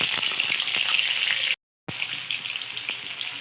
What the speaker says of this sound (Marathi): मोहरी तडतडली तर लगेच आपण त्याच्यात लसणाच्या पाकळ्या सोडूया